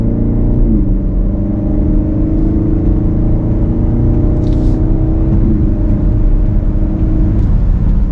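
A BMW X7 M50i SUV accelerates in adaptive driving mode, its engine a steady, full rumble and whir that holds throughout without a break, with no voices.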